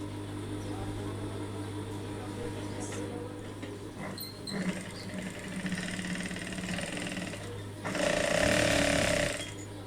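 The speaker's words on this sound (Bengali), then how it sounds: "এখন আবার এই পাশটাও ঢাবল করে সেলাইটি দিয়ে দিব" A sewing machine runs in bursts while double stitching a salwar seam, a mechanical whirring rattle with a steady mains hum beneath and a louder run near the end; someone talks over parts of it.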